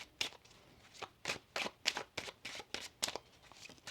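A deck of tarot cards being shuffled by hand, a quick series of about a dozen crisp riffling bursts in uneven rhythm, faint and close with no talk.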